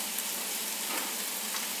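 Garlic frying in butter in a pan over high heat, a steady, even sizzle that fills the moment with no voices.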